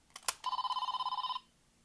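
A Power Rangers SPD toy morpher in phone mode rings with a loud electronic trill, a steady rapid warble lasting about a second after a couple of short beeps, then silence.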